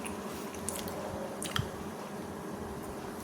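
Crackers being bitten and chewed close up, a soft steady munching with a few crisp crunches standing out, quiet and without talk.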